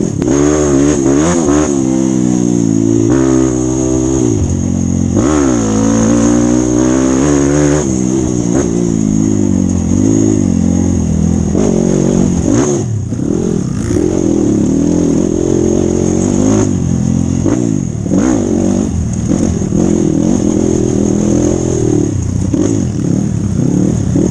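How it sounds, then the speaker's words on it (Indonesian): An automatic scooter climbs a slippery forest trail at Parangloe, its engine droning and revving loudly and continuously with shifting pitch as it strains uphill, with no talk. "Ternyata ada motor metik naik"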